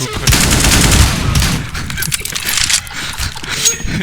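Rapid gunshots in Counter-Strike: Global Offensive come in dense, loud bursts that fill the moment, with someone talking over the gunfire.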